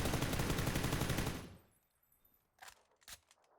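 An M4 rifle with no attachments fired in PUBG: a loud sustained automatic burst for about a second and a half that cuts off, then a couple of sharp isolated clicks or impacts in near silence.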